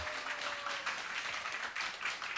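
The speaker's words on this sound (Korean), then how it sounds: "큰 박수로 배관우 선생님 모시겠습니다" An audience claps to welcome a teacher onto the stage at a Korean folk performance and talk show, a steady, fairly dense patter of hands that sounds soft and somewhat distant.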